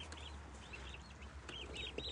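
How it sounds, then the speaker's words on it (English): White broad-breasted turkey poults peep in a mail-order shipping box from a hatchery, their high, faint chirps coming in short scattered bursts over a low steady hum. "I just got my turkeys in, the white broad-breasted turkeys"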